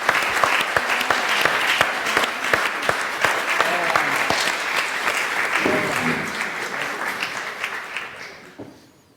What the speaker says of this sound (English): Another round of applause for the generosity with which they've shared their stories.